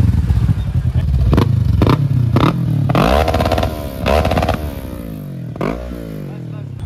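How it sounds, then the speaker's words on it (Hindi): A Kawasaki Ninja 650 motorcycle fitted with a loud modified silencer exhaust fires up and revs repeatedly, with sharp blipping throttle bursts rising and falling close by, its engine roar dominating throughout. "इसने साइलेंसर की वो कुछ करवाया हुआ है तो बहुत तेज आवाज आती है"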